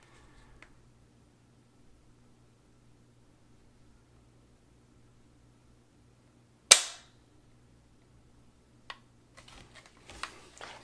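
A 1944 Lee-Enfield No4 Mk1 rifle is dry-fired, giving one sharp, close metallic snap of the trigger and striker, followed by a small click and some handling rustle.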